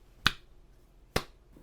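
A voice mimics a slow clap with two sharp, close claps or snaps spaced about a second apart, with no talk between them.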